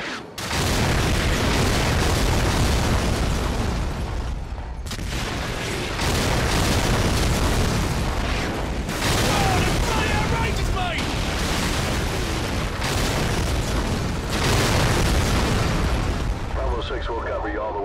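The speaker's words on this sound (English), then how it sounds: "Warhammer, fire mission, danger close. Enemy armor and infantry, 100 meters to the southwest of our location." Booming artillery explosions from an incoming strike in Call of Duty 4: Modern Warfare, loud and sustained in heavy rolling bursts across the whole stretch, with voices speaking amid the blasts.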